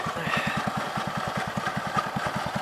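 A deluxe snow blower's small engine runs steadily nearby, throbbing in a fast, even rhythm with a constant mechanical drone and no speech over it.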